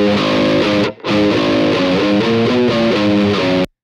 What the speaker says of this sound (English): two different methods courtesy of Joe Barresi for adding some parallel distortion